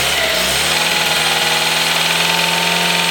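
A freshly rebuilt engine, its choke held open by hand, catches and settles into a loud, steady running drone close by, starting with a brief cranking surge before evening out.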